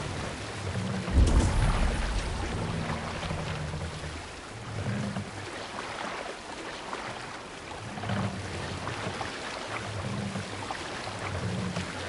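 Eivor's sailing ship in wind in a video game: a steady rushing of wind and water with a low rumbling swell that rises and falls in slow waves, a heavier thud near the start, moderately quiet and continuous.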